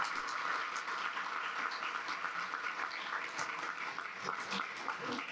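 Steady, dense applause from an audience at a Spanish-language cultural book presentation, sustained at an even level throughout without a clear break.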